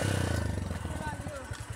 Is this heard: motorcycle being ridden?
yes